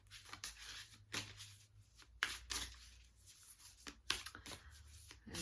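Tarot cards being shuffled and drawn for a weekly reading, with repeated soft riffling and papery slides in short bursts, close and fairly quiet, with no talking.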